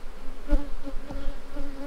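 Honey bees in a shaker box make a close, continuous buzzing hum that wavers in pitch, with a few brief louder surges.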